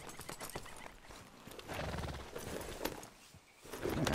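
Horse hooves clip-clop in a steady trotting rhythm while riding in Red Dead Redemption 2, fairly faint under outdoor ambience, with a brief whinny-like burst and no talk.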